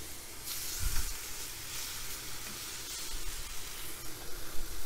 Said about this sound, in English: And you hear it sizzle as soon as it hits,